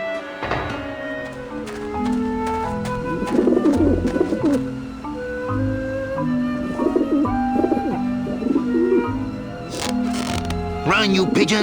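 Pigeons coo in the game Grim Fandango, soft repeated throaty coos and flutters from several birds with shutter-like clicks, while a voice talks over them.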